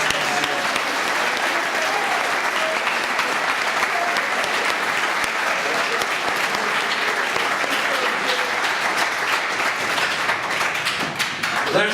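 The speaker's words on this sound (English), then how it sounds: "can we have a round of applause for our 2018?" A room full of people applauds at a senior class banquet, a loud, continuous roar of clapping with scattered taps and thuds that stays dense and unbroken throughout.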